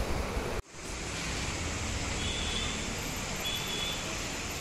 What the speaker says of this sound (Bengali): বেশ ভালোই জোরে পড়ছে গো বৃষ্টিটা, ভেবেছিলাম হবে না, বাট বেশ জোরেই পড়ছে।